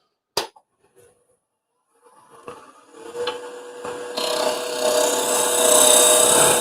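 A negative rake scraper skew cuts into wood spinning on a lathe for an offset handle, beginning with a few sharp knocks and then building into a loud, continuous rasping scrape that grows stronger toward the end.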